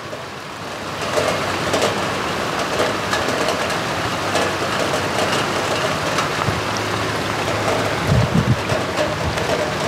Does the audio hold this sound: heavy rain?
yes